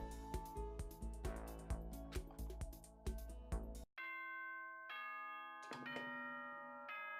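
Doorbell-style ding-dong chime tones from the video game Danganronpa, a couple of bright ringing notes over busy game music, then sustained chime tones ringing out clearly on their own.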